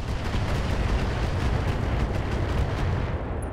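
Heavy artillery fire from a mech in the video game RogueTech, a dense rumbling barrage of booming impacts rolling continuously and loudly throughout with no talk.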